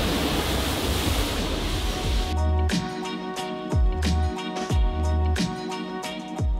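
On the River Bus on the Thames in London, a loud steady rush of water and wind noise fills the first two seconds, then gives way to rhythmic music with a regular beat.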